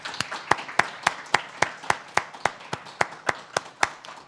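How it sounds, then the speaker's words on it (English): Sparse, evenly spaced claps ring out for a panel at a report release on crimes against humanity in North Korean detention centers, roughly a dozen distinct hand claps in a steady rhythm, fairly quiet and alone. "I would like to ask everybody to give a round of applause for our terrific panel"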